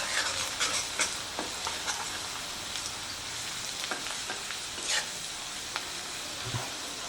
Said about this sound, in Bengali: তেলের মধ্যে প্রথমেই দেব রসুন কুচি আর আদা কুচি।